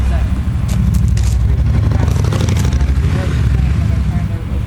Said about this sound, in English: Okay, motorcycles going by.